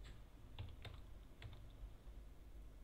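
Quiet typing on a computer keyboard, a few soft, scattered key clicks over low room hiss with no voices.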